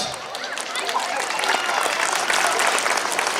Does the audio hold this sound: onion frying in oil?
no